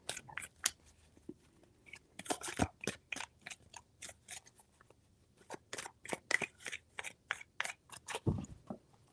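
Tarot cards being shuffled by hand in quick bursts of crisp riffling and slapping, close and fairly quiet, with short pauses between groups of shuffles.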